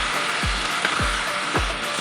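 Mutton sizzling in hot oil while being fried with garlic and ginger for dahi gosht, a steady loud frying hiss broken by a few soft scraping stirs.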